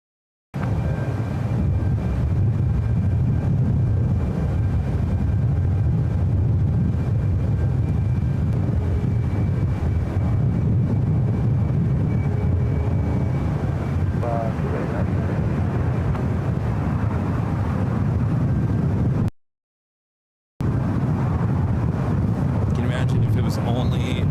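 Airbus A330neo arriving at SFO from Frankfurt, a continuous low jet engine rumble under steady nearby commentary, cut by a brief gap of silence near the end.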